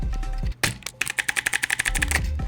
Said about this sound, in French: c'est un clavier mécanique à switch vert